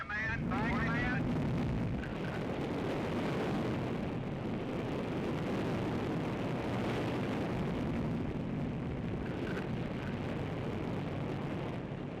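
A missile launch in an archival newsreel gives a continuous, steady rocket roar that holds for the whole stretch, with a faint tonal honk at the start.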